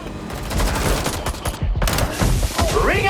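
Bursts of automatic gunfire in Watch Dogs: Legion, loud and close, rattling steadily for three seconds with sharp individual cracks and a whining effect near the end.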